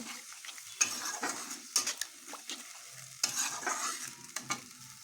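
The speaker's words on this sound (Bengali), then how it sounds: "এবার আঁচ বাড়িয়ে মশলাগুলো ভালো করে কষিয়ে নেব" Spice paste of ground cashew and sesame frying in oil in a pan for a Bengali potol korma, stirred over higher heat: repeated scraping strokes of a spoon over a soft continuous sizzle, close and fairly quiet.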